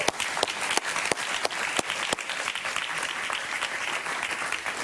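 A studio audience on a Spanish-language talk show applauds a young Spanish politician as he is welcomed, dense clapping that stays continuous and strong throughout.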